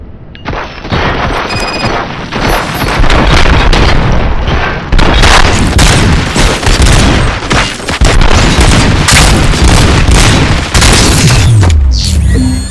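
Sustained, loud gunfire and booming blasts rage almost continuously in the RoboCop Rogue City video game, with dense volleys layered over heavy impacts for the whole stretch.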